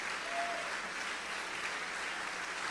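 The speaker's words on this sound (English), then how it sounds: "Clap your hands for the Lord, clap your hands for the Lord." Clapping in a church worship service, a steady wash of many hands heard at moderate distance, continuous for the whole stretch with no voices standing out.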